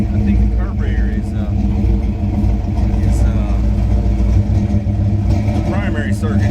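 A running car engine with a carburetor under tuning rumbles loudly and steadily nearby, rising slightly in rev, while someone talks over it.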